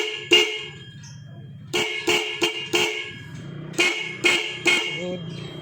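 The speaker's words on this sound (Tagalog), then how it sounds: "dito yung busina" Horn of a Rusi motorcycle being tested, several short sharp honks in a broken rhythm, close and loud, with a voice talking between the blasts.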